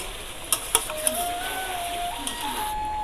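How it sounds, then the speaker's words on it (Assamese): Chicken pieces and chopped onions with bay leaves stirred in a pot for biryani, giving a soft steady sizzle with a few sharp scrapes and clinks of the spoon against metal early on. "এতিয়া মই মাংসখিনি আকৌ ভালকৈ লৰাই দিম"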